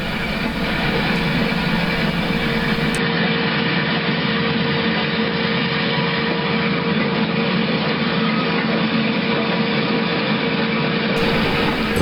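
A freight train on a yard lead near West Mill backs toward a float storage yard, a continuous loud engine rumble and rail noise with steady droning tones, close and unbroken.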